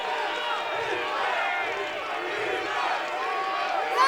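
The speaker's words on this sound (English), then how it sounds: "as we hear this crowd finally come to life here at the LA Coliseum" A crowd at the LA Coliseum during a football game keeps up a steady, dense roar of many voices, with commentary running over it.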